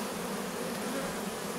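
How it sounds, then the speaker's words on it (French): A dense honey bee swarm hums loudly and continuously at close range as the bees enter a hive, a steady buzzing drone with no pauses. "il y a quand même pas mal d'abeilles qui sont rentrées dans la ruche"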